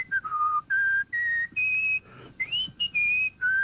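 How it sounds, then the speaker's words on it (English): A person whistles the Star-Spangled Banner, clear, sustained tuneful notes moving up and down in a melodic phrase, fairly close and alone without talk. "I began whistling the Star-Spangled Banner"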